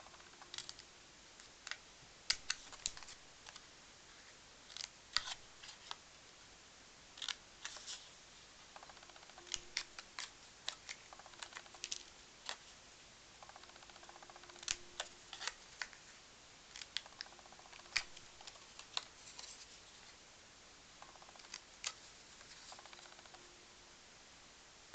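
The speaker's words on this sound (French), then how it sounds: "couper les coins." Scissors snipping the corners off a folded paper greeting card, a run of quiet, irregular clicks and short cuts spread across a faint, otherwise still background, with no talking.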